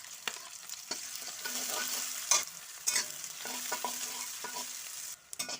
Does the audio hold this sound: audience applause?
no